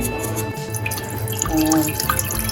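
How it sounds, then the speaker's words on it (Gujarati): Water trickles and drips into a vessel while making fennel and basil-seed sharbat, a close, steady splashing stream alone with no talk. "પાણી એડ કરીશું, જેટલા વ્યક્તિ હોય તેટલું પાણી એડ કરીશું"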